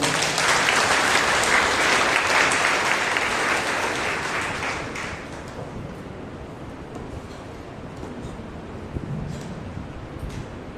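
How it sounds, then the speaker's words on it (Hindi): A congregation at a Monday prayer meeting applauds, a thick, loud wash of clapping that swells early and then fades steadily to a thinner, quieter patter by the end. "Let us give a mighty hand to the Lord."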